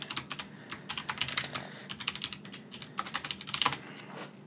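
Rapid computer keyboard typing, with quick irregular clusters of close, crisp key clicks and no speech.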